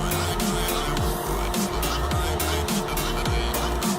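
A fast car in GTA V roars at high revs with repeated tire squeals and skids, the engine tone rising and dropping through the gears, loud and continuous.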